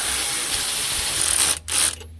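Ratchet socket wrench working on the rear end of a Jeep Cherokee XJ, a close rapid clicking run followed by a short pause and a second burst of clicks.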